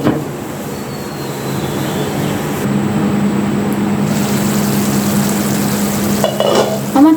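Pangas fish curry with potatoes being sautéed in a pan: a steady, dense sizzle and frying hiss runs close and continuous throughout, with faint scraping of stirring near the end.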